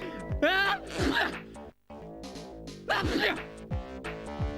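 A doorman in the Snatcher video game sneezes twice, two sharp, close bursts separated by a pause, over steady background music.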